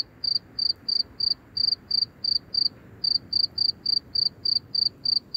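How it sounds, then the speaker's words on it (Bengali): Crickets chirp at night in a loud, regular train of short, evenly spaced pulses, close by and alone with no voices. "সর্বক্ষণ জেগে থাকে ঝিঝি করে ঝিঝি পোকাদের একটানা আর্তনাদ।"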